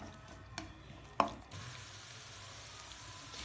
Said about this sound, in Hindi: ये मैंने प्याज पैन में डाल दिया और घी भी, तो इसको तकरीबन भुनेंगे जब तक ये हल्का ब्राउन हो जाए।